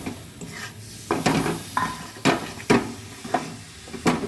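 Grated coconut and patali jaggery stirred in a wok: a series of irregular scraping strokes of a spoon against the metal pan, each a short gritty swipe, with a faint sizzle between them.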